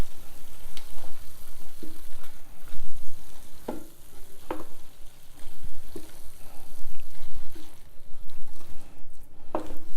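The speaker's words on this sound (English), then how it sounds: "So I'm going to add rice to it. So let's mix this." Cooked rice being mixed into cilantro fried rice in a pan, soft sizzling under intermittent spatula scrapes and taps, close and fairly loud.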